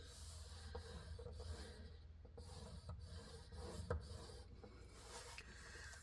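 A scoring tool drags along paper for a Christmas craft, giving faint, close scraping strokes that repeat in a loose rhythm, with no voices.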